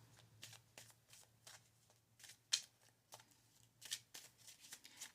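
A deck of cards being shuffled in a quiet room, a series of soft riffling bursts with a couple of sharper snaps, faint and close, with a low steady hum underneath and no talking.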